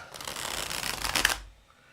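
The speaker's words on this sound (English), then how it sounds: "listening to the cards like the sounds of the ocean" A deck of playing cards shuffled once up close, a dense riffling flutter lasting about a second and a half before cutting off into quiet.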